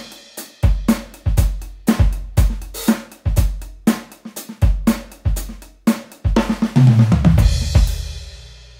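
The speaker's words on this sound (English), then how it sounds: "And I also have the new remixed and rebranded Rock Legend kit that sounds like this." Goran Grooves Handy Drums Rock Legend virtual kit plays a steady rock groove of punchy kick and snare hits in even rhythm, building into a busy fill with washing cymbals at the end.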